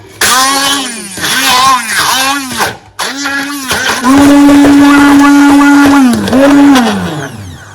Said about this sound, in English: then we will blend with the help of my hand blender